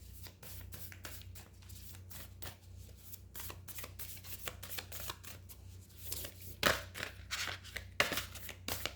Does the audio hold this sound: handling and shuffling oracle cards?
yes